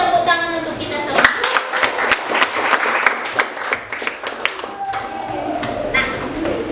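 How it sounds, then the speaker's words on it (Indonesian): A class applauds together, a burst of sharp individual claps close by with a loose, uneven rhythm, voices and shouts from the students mixed in over several seconds. "Kalau begitu tepuk tangan untuk kita semua."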